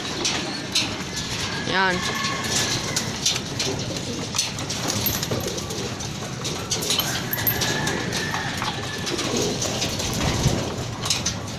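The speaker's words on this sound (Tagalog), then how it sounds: "100 birds pinapalipad guys." Pigeons coo and flutter near and around as a flock of about a hundred is set loose outdoors, with a soft steady background and a voice speaking briefly.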